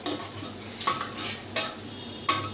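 Green chilli frying in a pan, a steady sizzle punctuated by four sharp metallic stirring scrapes spaced roughly evenly, close and without talk.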